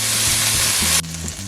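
Pepper steak searing in a hot pan with a loud, close, hissing sizzle that suddenly drops to a quieter, duller fry partway through.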